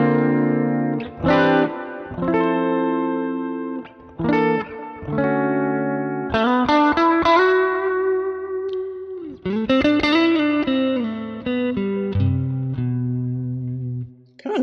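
Electric guitar through a plugin clean-tone preset on a Quad Cortex, warm clean chords and single notes played in short phrases with brief gaps, ringing clearly with slight chorus-like shimmer.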